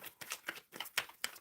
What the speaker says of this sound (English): Shuffling for Jazz